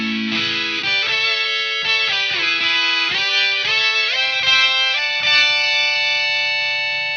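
Electric guitar through a Keeley Octa Psi octave fuzz pedal plays a loud, saturated lead line of sustained bending notes with a thick, buzzy upper-octave tone, alone and without talk.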